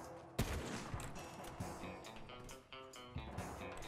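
Sniper rifle gunshots in a Fortnite match, a sharp loud crack standing out followed by a run of fainter shots and game noise over about four seconds.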